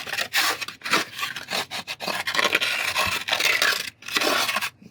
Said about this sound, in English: I use my plastic scraper there as well.